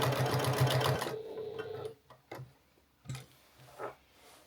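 A sewing machine stitches quilting fabric scraps for an upcycled summer maxi dress, running in a steady close burst for about a second, then stopping, followed by a few scattered clicks and handling knocks.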